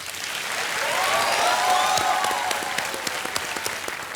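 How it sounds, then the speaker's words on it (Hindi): Studio audience applause on the quiz show Kaun Banega Crorepati Season 10, a dense, steady wash of clapping that swells and holds for several seconds, with faint tonal music underneath. "एक बार फिर तालियां बज जाए इनके लिए"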